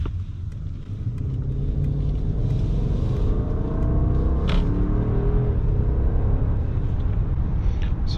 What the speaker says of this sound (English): So let's try the acceleration.